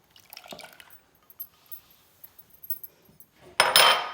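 Liquid cream is poured into a mixture with icing sugar for a tiramisu: soft drips and small liquid sounds first, then a louder, rushing pour near the end.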